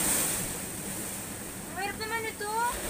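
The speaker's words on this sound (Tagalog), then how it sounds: "nagising ako dahil sa lakas ng alon" Strong ocean waves pound during a typhoon at night, a loud rushing, windy surf roar near the shore, with a voice briefly heard over it.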